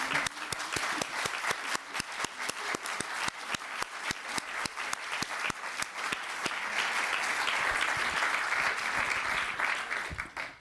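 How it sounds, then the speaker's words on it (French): Sustained audience applause at a round-table session of an animal-politics conference held in the National Assembly, dense rapid clapping from a large room lasting throughout and swelling slightly toward the end. "vous devriez peut-être les encourager par des applaudissements nourris pour ce travail."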